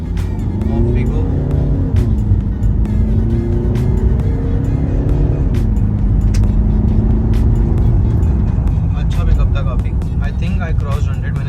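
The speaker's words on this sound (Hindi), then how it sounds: "अभी एक स्पोर्ट्स मोड पे पिकअप लेके देखते हैं गाड़ी का।" A Range Rover Evoque in sports mode pulls away hard, its engine note climbing steadily as it accelerates, loud and close from inside the cabin, with a person talking over it.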